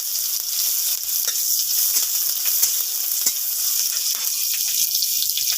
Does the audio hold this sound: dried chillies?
yes